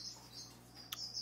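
Purple grenadier finches in an aviary give a few high, thin chirps, faint and brief over a quiet background.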